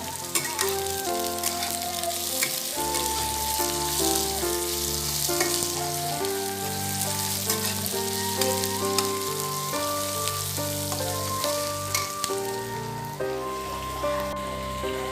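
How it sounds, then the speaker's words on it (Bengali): Onion fries in oil with cardamom, cinnamon and garlic, a steady, close sizzle with crackling pops and occasional stirring, heard alone for a long stretch. "পেঁয়াজটা এবার ভাজাতে বসিয়েছি"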